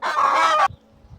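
F2 Olive Egger chickens give a close, loud, steady clucking call lasting about two-thirds of a second, then quiet faint rustling and shuffling noises afterward.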